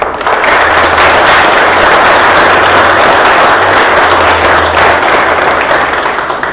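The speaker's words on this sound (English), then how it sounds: "they really deserve a big round of applause for all of them" A large crowd claps loudly and continuously at a library time capsule event, a thick, even wash of applause for library trustees that holds steady throughout with no break.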